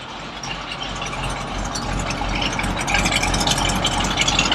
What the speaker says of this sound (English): The rumble of the big block.